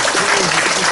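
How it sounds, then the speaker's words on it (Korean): A crowd at a Korean theological graduate school graduation ceremony applauds its professors, a dense, steady wash of clapping filling the whole moment at full volume. "여러분, 우리 교수님들 한번 다 같이 크게 한번 박수 주세요."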